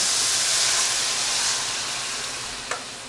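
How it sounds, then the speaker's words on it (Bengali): Water poured into a hot pan of jackfruit and shrimp curry sets off a loud, close, broad sizzle and steaming hiss that slowly fades, with one small clink near the end. "এবার আমি দিয়ে দেবো পরিমাণ মতো জল।"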